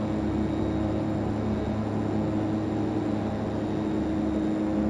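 A DHC-6-300 Twin Otter's turboprop engines in the FSX flight simulator give a steady, dense roaring drone with a low hum and airy hiss, constant in loudness and close, with no talking.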